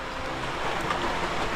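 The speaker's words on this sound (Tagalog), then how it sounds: "Ulan man." Heavy rain pours down outdoors over a farm field during plowing, a loud, steady, broadband hiss that fills the whole moment with no voices.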